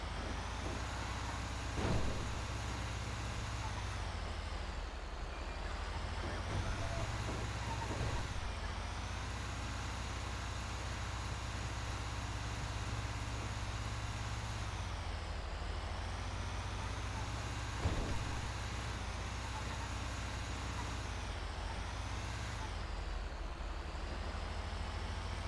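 Fire truck engine in GTA 5 driving through Times Square traffic in New York City, a steady low rumble that surges and dips as the vehicle accelerates and slows, with faint street sounds and a couple of brief knocks.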